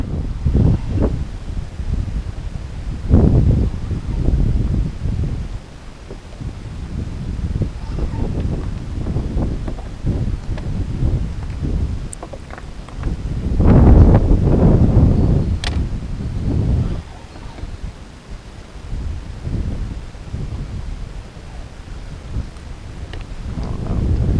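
Gusty wind buffets the microphone on a lake during kayak fishing, rising and falling in loud rumbling surges with rustling in between, no voices.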